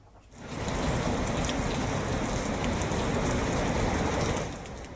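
Heavy monsoon rain in Gujarat pouring down in a dense, steady hiss and patter, loud and continuous for several seconds before easing at the end, with no voices.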